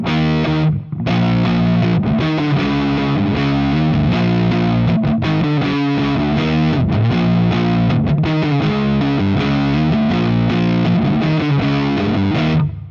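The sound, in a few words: distorted electric guitar, middle pickup position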